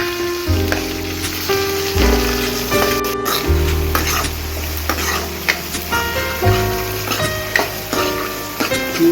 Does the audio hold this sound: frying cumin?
yes